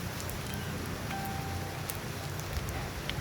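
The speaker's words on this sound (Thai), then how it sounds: "โอ้ยฝนตกแล้วตอนนี้" Steady rain falls outdoors in a broad, even hiss of drops that runs through the whole moment, with faint scattered patters and no clear speech.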